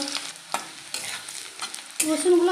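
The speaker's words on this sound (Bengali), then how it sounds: "এইবার দিয়ে দেবো রসুনগুলো" Garlic sizzles and crackles in hot oil with dried red chillies, with several sharp stirring scrapes and a louder burst of frying near the end.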